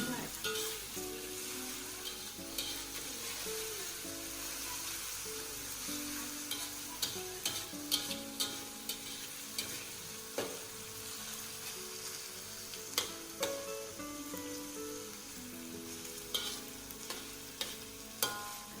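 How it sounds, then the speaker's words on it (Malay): Onions and garlic fry in a pan, a steady sizzling hiss with regular scraping and tapping stir strokes in a loose rhythm, close and moderately loud, with faint talking now and then. "Kemudian kita akan kacau sampai kedua-dua bawang ni dah layu, dah garing, dah naik bau."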